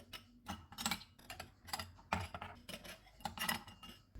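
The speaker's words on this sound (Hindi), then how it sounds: "गिलासों में आइस क्यूब्स डालेंगे।" Ice cubes dropped into glasses while making milk soda, giving a run of sharp clinks and rattles in irregular bursts, close and fairly loud, with no talking.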